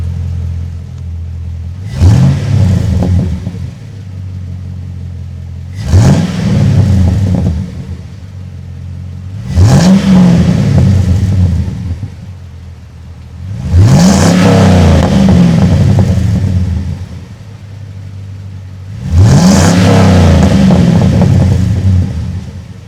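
A truck engine fitted with Magnaflow 4x9 oval mufflers is revved five times at steady intervals. Each rev swells into a loud, deep rumble and then falls back to a low idle, with no talking.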